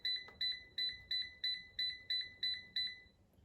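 An air fryer beeps while its temperature is set for baking blueberry muffins, giving nine evenly spaced, clear electronic tones, close and fairly quiet, with no voices.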